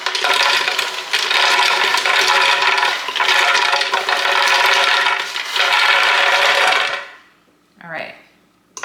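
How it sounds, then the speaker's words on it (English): Roasted nuts pour into a Ninja blender jar, a loud continuous rattling cascade of hard pieces striking plastic for several seconds, then stopping abruptly, followed by a brief scrape and a short squeaky sound. "So we're gonna pour those into our blender."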